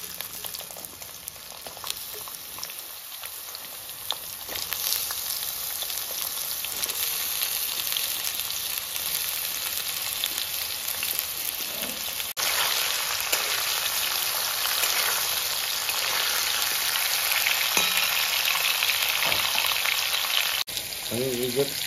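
Potatoes hit a pan of browned onions and fry with a steady, dense sizzle, like heavy rain, holding constant the whole time, with light scraping and clinks of a utensil now and then.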